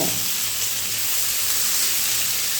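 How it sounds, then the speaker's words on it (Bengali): Chopped onions with ginger and garlic fry in a pan, making a steady close sizzle like a dense hiss, constant and fairly loud throughout, with no voices. "এবারে আদা রসুনের সঙ্গে পেঁয়াজগুলো একটু ভালো করে ভেজে নেব।"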